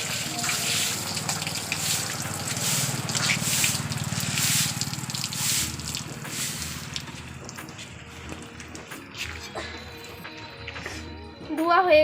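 Tap water gushes and splashes steadily over cut chapila fish being washed in a kitchen, fading toward the end with a few clinks and handling noises.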